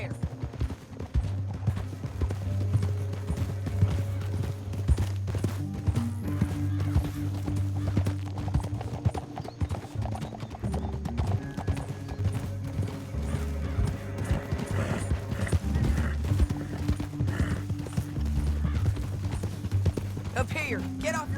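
Horse hooves clip-clop in a steady rhythm in the video game Red Dead Redemption 2, over a low droning backdrop, with occasional mechanical clicks and a horse whinnying now and then.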